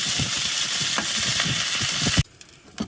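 Loud, close sizzling of steak frying in a pan, a dense crackling hiss that suddenly drops away near the end.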